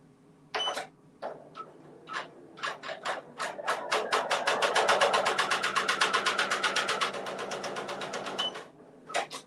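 An embroidery machine stitching a stipple pattern on a mug rug starts with separate bursts of stitching, then settles into a fast, steady mechanical needle chatter that runs for several seconds before slowing and stopping.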